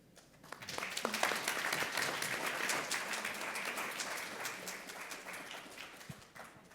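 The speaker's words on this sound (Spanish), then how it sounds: "un aplauso para nuestro panel" A medium-sized audience at a patient-care debate event applauds the panel, a steady, moderately distant rush of clapping sustained evenly from start to finish.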